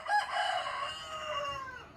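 A rooster crows once at close range in a drawn-out, strong call that gradually trails off over about two seconds, with no other sounds around it.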